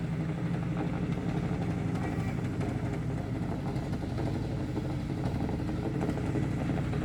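A boat engine drones steadily on Foy's Lake, a constant, close mid-pitched motor rumble with a rattling clatter, running without pause and with no voices over it.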